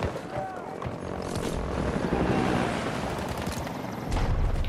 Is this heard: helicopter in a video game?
yes